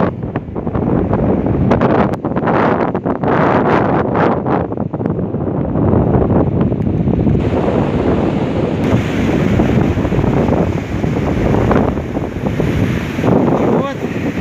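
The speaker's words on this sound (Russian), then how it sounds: "Дует ветер, но он южный." Strong wind buffets the microphone on the Baltic Sea shore, with a constant roar of surf and gusty rumbling, loud and continuous throughout.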